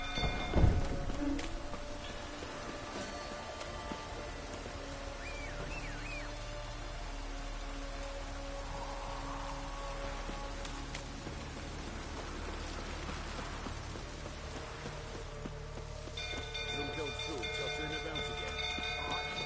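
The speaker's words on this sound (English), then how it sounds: "Looks like rain." Steady rain pours in The Witcher video game, a dense, even hiss that stays constant throughout with faint voices now and then beneath it.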